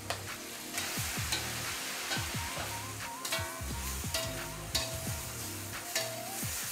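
Vegetables roast in oil in a pan, sizzling steadily while a utensil stirs and scrapes them in repeated strokes, close and fairly loud with no talking.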